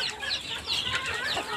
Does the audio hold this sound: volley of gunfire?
no